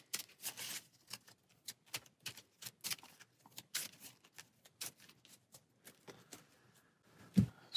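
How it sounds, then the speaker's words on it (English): A deck of Arkham Horror game cards being shuffled by hand, quick dry riffles and snaps in close, quiet bursts with a short thud near the end. "So we'll shuffle this back in our deck"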